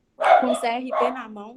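A dog barks a few times close by while a person speaks over it indoors.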